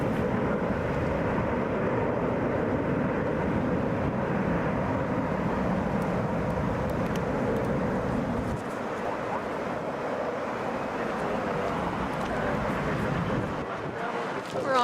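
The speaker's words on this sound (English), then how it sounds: "That's an Airbus A319." A United Airbus A319 climbing out after takeoff from Atlanta's Hartsfield-Jackson airport, a loud, steady broadband jet roar with wind rumble that holds throughout and eases slightly past the midpoint.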